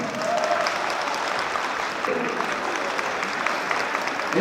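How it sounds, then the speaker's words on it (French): A crowd at a political rally for a Guinean opposition leader in London claps steadily, a broad wash of applause with faint cheering mixed in that stays level from start to finish. "Applaudissez pour vous-même."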